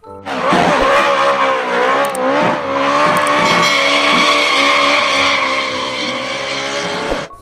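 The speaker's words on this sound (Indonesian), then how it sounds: "Widih, lihat ada mobil balap" Loud, continuous tire squeal and skidding from a race car, a wavering high screech with engine tone underneath that holds for several seconds before cutting off.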